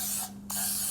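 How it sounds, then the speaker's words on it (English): Cooking spray hisses into a muffin tin for a Guyanese cheese pie, two loud close bursts with a short pause between them. "So I'm going ahead and spray this."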